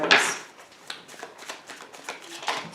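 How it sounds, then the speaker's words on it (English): Tarot cards are shuffled close up in a quick run of crisp, papery riffles and slaps, with no voice over them. "so I'm trying to shuffle to get your cards"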